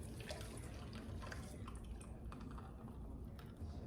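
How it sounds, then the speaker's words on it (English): Ice cream mixture for pineapple ice cream pouring into an ice cream maker, a steady liquid splash and trickle filling the canister, continuous and fairly soft throughout with no talking. "We're gonna go ahead and pour this mixture into the ice cream maker."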